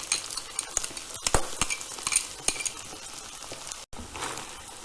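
A sauce mixture is poured over lightly cooked peppers in a hot pan, sizzling steadily while a utensil stirs and clinks against the pan in an irregular rhythm, close and fairly quiet.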